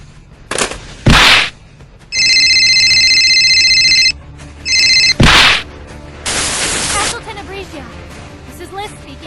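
A telephone rings in two electronic bursts separated by a short gap, loud and close, set among other sharp noises and bangs.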